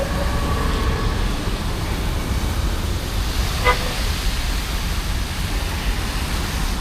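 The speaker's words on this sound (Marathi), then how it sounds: "आणि ट्रेन बघा." A train passes through Mumbai on a rainy day, a broad steady rumble that fills the whole stretch at moderate distance. A short toot rises in the middle of it.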